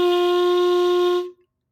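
A single open G held on a baby clarinet, steady and clear with strong harmonics, sounding alone for just over a second before stopping cleanly.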